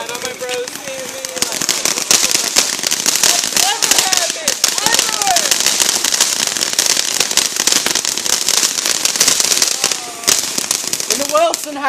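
A backyard fireworks fountain at a family fireworks show sprays continuously, with dense crackling and popping bursts and occasional whistling tones, loud and sustained throughout.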